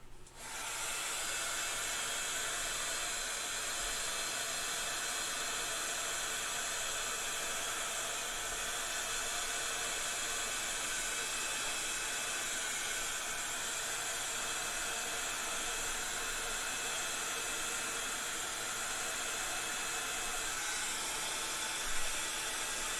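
A hair dryer blows steadily and close up for over twenty seconds, a constant airy whir used to dry something off, with no talk over it.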